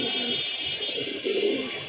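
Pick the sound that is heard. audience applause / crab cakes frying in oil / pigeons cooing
pigeons cooing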